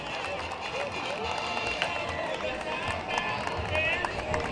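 Sustained applause fills a municipal event as a guest, the Cuban consul in El Salvador, is welcomed. The steady, dense clapping stays loud throughout, with crowd noise underneath.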